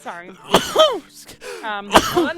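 A couple of abrupt, explosive sneezes break up a bit of close, casual talk.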